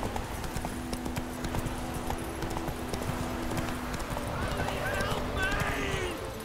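Horse hooves clip-clop steadily in The Witcher 3, a rhythmic clatter of a ridden horse with a voice speaking over it and a brief whinny-like sound near the end.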